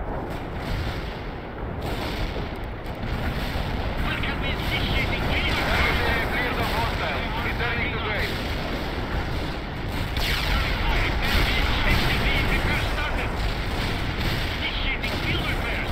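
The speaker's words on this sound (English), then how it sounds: "Another airstrike right on top of us, please." Continuous heavy explosions and rumbling blasts from airstrikes in the real-time strategy game World in Conflict, loud and dense throughout, with battle noise layered over the bombardment.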